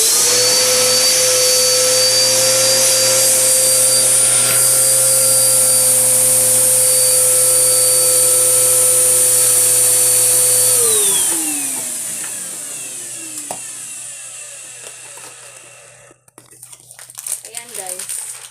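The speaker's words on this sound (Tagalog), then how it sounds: "suck with the vacuum" A vacuum cleaner draws the air out of a plastic vacuum storage bag, a loud, steady whine and roar that runs for about eleven seconds and then winds down. The sagging bag crinkles and rustles near the end.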